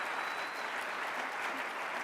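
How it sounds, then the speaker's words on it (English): Brief burst of audience applause at a political conference, a crowd clapping steadily at moderate distance, fairly soft and continuous for the whole moment. "Please, give her applause."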